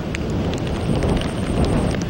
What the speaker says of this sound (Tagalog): Pabugso-bugso ang ulan na may kasamang malalakas na hangin.